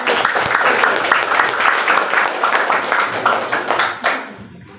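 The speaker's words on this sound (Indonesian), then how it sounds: "Tepuk tangan" Classroom of pupils applauding a student, with a dense, steady burst of clapping that carries at even strength for about four seconds, thins out near the end and gives way to one last brief sound.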